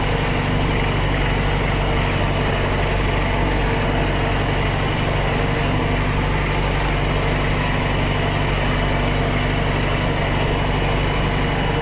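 Tractor engine running steadily in a field during spring cultivation and sowing of spring wheat, a loud, continuous diesel drone with no pauses and no voices.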